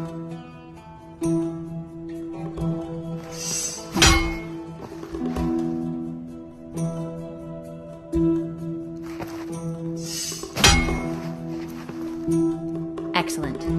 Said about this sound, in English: Block the incoming strikes by holding your weapon to intercept them